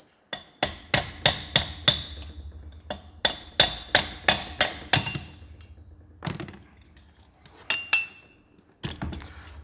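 Sharp metallic hammer blows on an alloy punch ring out in quick rhythmic runs, several strikes each, with a few scattered single taps after, working on a Massey Ferguson 135 gearbox input shaft housing.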